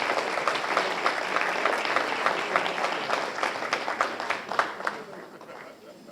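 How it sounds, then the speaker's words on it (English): An audience at a high school athletics hall of fame ceremony gives a round of applause for the committee, a continuous crackling wash of clapping that holds steady and then thins out near the end. "Would you just give a round of applause to our committee?"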